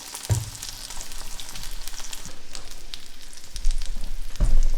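An egg fries in a pan with salt, black pepper and Swiss cheese, giving a steady close sizzle and crackle that swells louder in bursts toward the end, with occasional soft knocks.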